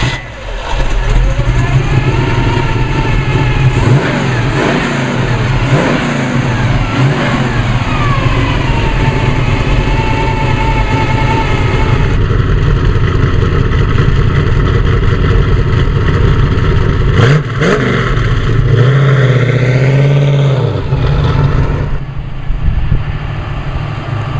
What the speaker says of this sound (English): Let's go for a ride in this little 34 steel body coupe